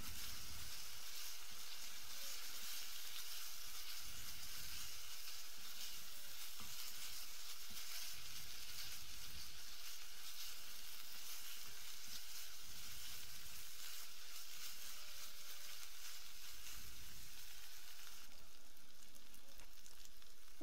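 Tomato paste frying in a pan, a soft, steady sizzle with occasional quiet stirring scrapes, faint and even throughout with a slight dip near the end, no speech.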